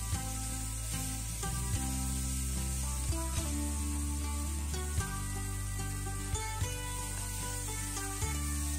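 Grated onion sizzles in hot oil with bay leaf and whole cumin, a steady close hiss with scattered soft crackles and faint stirring scrapes.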